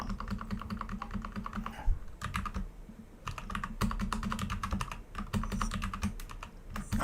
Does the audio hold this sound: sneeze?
no